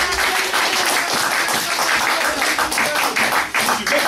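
A church congregation at a Sunday service applauds the Lord with steady, dense clapping that fills the room throughout, with voices mixed into the applause.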